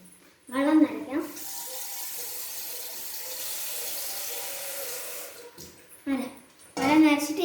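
Water running from a kitchen tap onto a mould, a steady hiss of flow for several seconds, with a person talking before and after.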